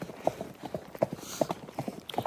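A horse's hooves clip-clop at a steady walking rhythm on an early-morning trail ride from a stable, close and fairly loud, with no talking over the hoofbeats.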